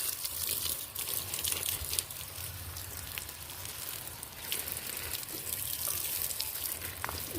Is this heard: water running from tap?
yes